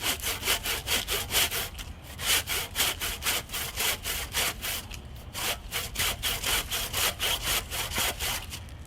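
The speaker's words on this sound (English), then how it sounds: "It's an old saw we don't really use anymore" An old hand saw cuts through a dead branch at a rainy cottage garden, a quick steady rhythm of rasping back-and-forth strokes, close and clear with no talk.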